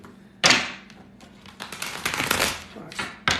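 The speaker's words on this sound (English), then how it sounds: "I want to show you my shuffling skills" A tarot deck is shuffled by hand, crisp riffling bursts and papery flutters in several quick bouts, close and fairly loud, with no talk.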